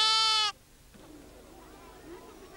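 A sheep lets out a single loud, close bleat at the very start that cuts off sharply, followed by quiet outdoor background noise in southern Morocco.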